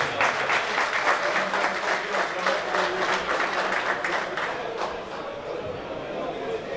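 Steady applause from a crowd at an association's annual assembly in Zemun fills the whole stretch, dense and continuous, easing slightly toward the end.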